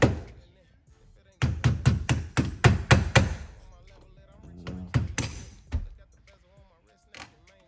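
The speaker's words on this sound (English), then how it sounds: "Get your hammer and a flathead, and just press fit it on." A hammer taps a 2015 Camaro SS steering wheel into place on a 1996 Impala with a quick run of about eight sharp knocks, then a few scattered taps, with a voice speaking faintly in between.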